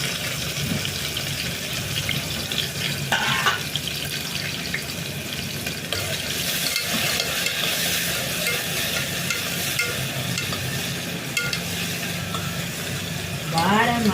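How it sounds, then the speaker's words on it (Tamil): Stone flower spice and chopped onion fry in hot oil, giving a steady crackling sizzle with scraping and stirring clatter and a couple of brief sharp clinks. "இப்போ நம்ம கல்பாசி போட்டுடலாம். எண்ணெய் நல்லா காஞ்சிருச்சு. ஆனியன் கட் பண்ணியிருக்கேன், அதையும் போட்டுருவாங்க."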